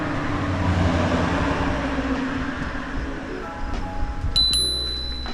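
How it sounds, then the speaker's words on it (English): An electric bike's handlebar bell rings a few quick, clear dings near the end, over steady low rumbling riding noise. "It's just a bell."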